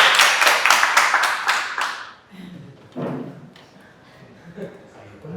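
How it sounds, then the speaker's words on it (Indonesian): A classroom of students clapping hands in a quick, loud rhythmic burst of about seven claps lasting two seconds, followed by quieter thumps and scattered taps in the room. "Tepuk tangan dulu kembali."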